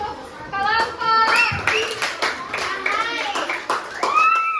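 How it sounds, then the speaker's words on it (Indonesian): Schoolchildren in a classroom clap for a group after its answer. The applause is short and scattered, and lively children's voices run over it. "Bagus, tepuk tangan dulu untuk kelompok"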